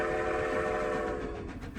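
A Strasburg Rail Road steam train on America's oldest operating short-line railroad, heard close and steady as a loud sustained rumble with a horn-like tone across the whole stretch.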